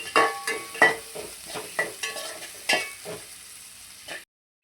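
Onions sauté in a pan, stirred repeatedly with a spoon that scrapes and clinks in uneven bursts over a soft sizzle, close up and without speech, ending abruptly in silence.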